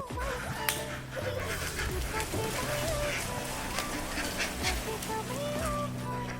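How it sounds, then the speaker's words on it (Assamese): Many ducks on a large farm at Biru Bari, a busy flock quacking and honking all around at close range, with a steady layered chorus of calls and no talk over them. "আমাৰ বিৰুবাৰীত থকা নিগাজী পামত হাঁহ, আৰু বহুত হাঁহ আছে।"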